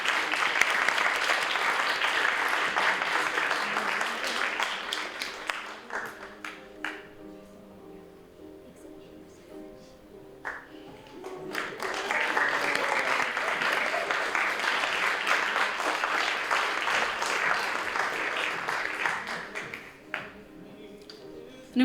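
Audience applause for contestants at a county fair pageant, sustained clapping for about six seconds, a quieter lull with scattered claps, then a second long round of applause that fades out.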